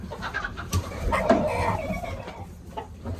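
Barn chickens cluck and squawk near the microphone in a goat kidding pen, a few short agitated calls rising over a low rustling background, with one louder burst in the middle.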